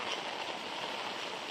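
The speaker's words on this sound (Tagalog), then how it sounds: "Lakas ng ulan." Heavy rain pours steadily during a flood, a dense, even hiss of water on surfaces with no breaks, close and fairly loud, and no voices over it.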